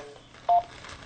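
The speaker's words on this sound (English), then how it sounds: "Please enter the area code and phone number you wish to dial" A single short telephone keypad tone beeps once at a phone dial prompt, clear and close, with a faint quiet line hiss around it.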